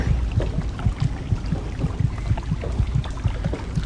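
Steady, regular low thumping of a heartbeat sound effect in the Fallout 3 video game, pulsing continuously at a moderate pace across the whole stretch over a faint airy background.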